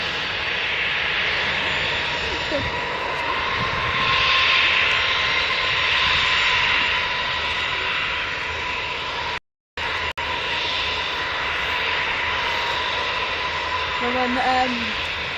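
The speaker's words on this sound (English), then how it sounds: "the aircraft's just going to line up now. That's the landing lights on, and here they go." Aircraft taking off from a runway at Newcastle Airport at night, a loud sustained engine roar with a steady high whine, heard from the airfield with people talking faintly over it.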